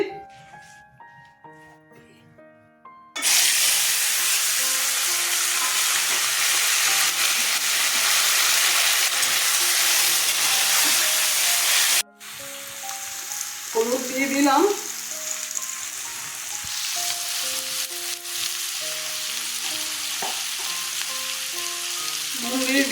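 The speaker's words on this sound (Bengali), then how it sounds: "আমি এখন আলু ভেজে নিচ্ছি" Potatoes frying in hot oil make a loud, steady sizzle that starts abruptly after a few seconds of quiet, breaks off briefly, then returns slightly softer, with music playing underneath throughout.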